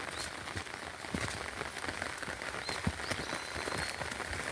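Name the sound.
rain falling outdoors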